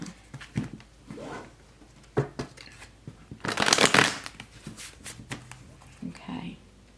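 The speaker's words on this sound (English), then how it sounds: "I'm doing 3 shuffles and cuts" Tarot cards are riffled and cut by hand, giving several short papery bursts and one longer flurry of shuffling, with soft handling noises between them.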